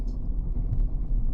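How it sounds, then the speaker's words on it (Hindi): Car engine idling with a steady low rumble as the vehicle eases out of a parking spot during a driving lesson, close and continuous with no talk. "अब मैं अपनी गाड़ी को बाहर निकालूंगा।"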